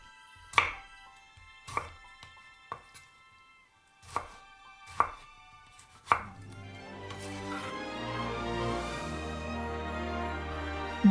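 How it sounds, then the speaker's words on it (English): A knife chops a tomato into chunks on a board in a home kitchen, with five or six sharp separate cuts ringing out close by, then a steady busy clatter and shuffle of cooking. "Also cut the tomato into chunks."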